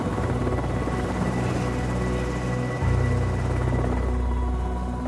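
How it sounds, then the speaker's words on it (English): A helicopter carrying evacuees to Louis Armstrong Airport in New Orleans after Hurricane Katrina, its loud, steady rotor thrum continuous and close throughout. "Helicopters carry wounded and sick evacuees here to Louis Armstrong Airport"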